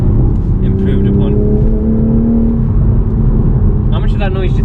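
A new stock Toyota Supra engine hums steadily while driving, a low droning note heard from inside the cabin, with people talking over it at the start and end.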